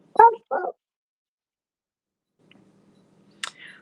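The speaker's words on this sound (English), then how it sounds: "Hey, settle down. Don't start fucking barking." A dog gives two quick, loud barks up close, followed by a long quiet stretch and a faint yip near the end.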